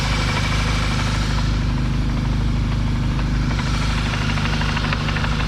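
A VW MK6 GTI with a newly installed HPA K04 turbo idles with a single mass flywheel, giving a loud, steady engine drone under a constant metallic rattle that chatters in rapid repetition, close up.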